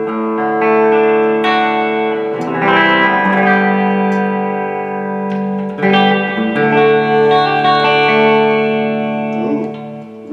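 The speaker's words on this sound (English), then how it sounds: "Ooh, reverb." A 1959 Gibson Les Paul reissue electric guitar plays chords and a riff through a reverb effect, with loud ringing notes that sustain and wash into a lingering tail.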